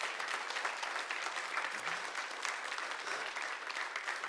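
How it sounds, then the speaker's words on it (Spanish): Loud, dense applause from a congregation at a church service during a teaching on prayer, a steady even roar of many hands lasting the whole stretch with no voices over it. "Dale un aplauso bien fuerte al Rey de Reyes."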